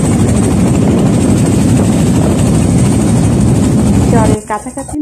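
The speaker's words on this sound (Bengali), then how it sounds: "কাছাকাছি নৌকা চলে এসেছে" A boat's engine drones loud and close as it nears the ghat at Mawa on the Padma river, a steady, heavy rumble that cuts away abruptly near the end, leaving quieter uneven sounds.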